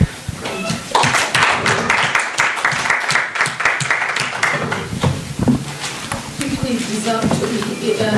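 An audience at a panel talk on care work breaks into brisk, dense applause for a speaker, the clapping loud and close and persisting as voices talk over it toward the end.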